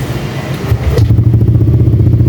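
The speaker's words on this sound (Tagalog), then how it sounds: "yan marinig nyo aftermarket na yung kanyang tambucho so malakas" A low-mileage motorcycle with a loud aftermarket exhaust idles close by, giving a deep, throbbing, pulsing rumble that steadies and grows heavier after a brief clatter.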